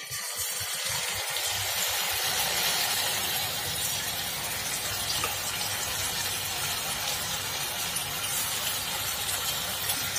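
Vegetable and corn pakora batter dropped into hot oil, setting off a steady, loud sizzling hiss that continues evenly throughout, with a few soft clunks at the start.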